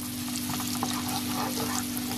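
Chopped onions frying in a pan for a pea pulao, a faint steady sizzle and crackle over a constant low hum, brief and without speech.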